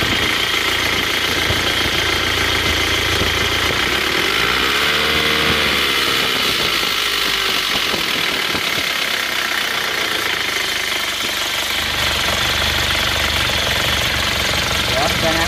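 A motorcycle engine rebuilt with a new cylinder liner runs rough and keeps losing coolant, idling with a steady uneven knock and rattle that continues throughout, close by, with a voice talking over it briefly.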